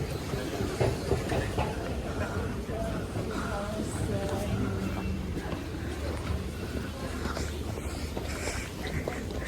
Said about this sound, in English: Since, yeah, that train just left.